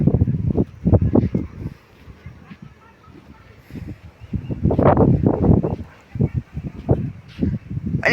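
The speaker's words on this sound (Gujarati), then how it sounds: "અને ગોકીરો બહુ આવે આ પવન છે ને એટલે" Strong wind buffets the microphone outdoors in low rumbling gusts that come and go, loud and close, with a person talking over parts of it.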